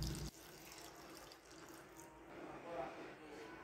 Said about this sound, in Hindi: अब हम इसमें ठंडा पानी डालेंगे डिप करने के लिए।